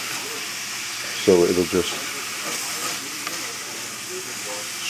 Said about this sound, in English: Then I will drop this into the reduced liquid that's over there,